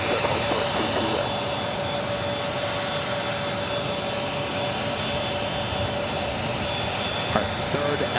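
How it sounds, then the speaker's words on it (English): An Emirates Airbus A380 jet airliner at JFK produces a continuous, fairly distant engine roar with a faint steady whine on top, holding an even level throughout with no talk. "Our third Emirates A380 Super we've seen here today at JFK."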